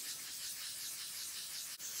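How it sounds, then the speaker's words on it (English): Fine sandpaper rubs softly and continuously against a smooth surface, a quiet, even hiss with a brief pause near the end. "You can barely hear the abrasive rubbing at this point"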